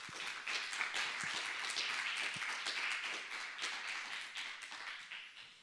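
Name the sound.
audience applause for the speakers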